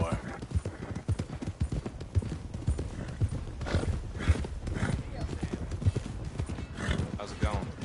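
Horse hooves clip-clop at a steady walking pace in Red Dead Redemption 2, running under continuous character dialogue with an occasional whinny, accompanied by soft rustling.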